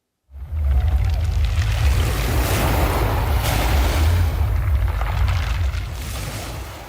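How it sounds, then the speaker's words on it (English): Mediterranean Sea waves wash onto the shore at Nice, France, a loud, continuous roar of surf and churning water with deep rumble and some wind buffeting, beginning suddenly and fading slightly at the end. "If you were standing on the shores of the Mediterranean Sea in Nice, France, right now, you might hear this."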